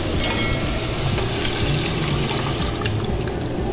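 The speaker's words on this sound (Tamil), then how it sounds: "இப்போ நம்ம அந்த எல்லாம் கூட்டி வச்சுருக்கிற குழம்பு அதில் சேர்த்துருவோம்" Prepared bluefin trevally fish gravy is poured into a pan of sautéed onions, producing a loud, continuous close-up sizzle and liquid rush that softens slightly toward the end, with no voices.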